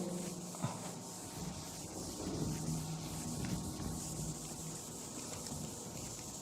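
An eraser rubs across a lecture board in soft, continuous strokes, faint and close, with light scratchy friction and a small knock early on.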